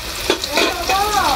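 Shrimp frying in a pan with lightly browned onions, a steady close sizzle with a few stirring scrapes and no voices.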